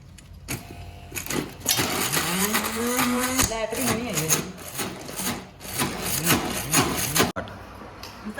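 A kitchen grinder blends onions, chilies and tomatoes for a bitter gourd masala, a loud rough whirring and grating that surges and stutters in bursts, with someone talking over it.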